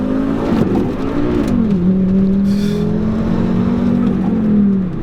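Engine note of a 2004 Volvo S60 R launching with a manual clutch, heard from inside as a loud steady drone that climbs, drops after a shift, then rises again and steadies.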